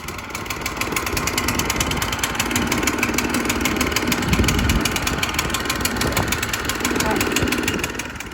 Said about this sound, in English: pulling the draw cord at the side to start the engine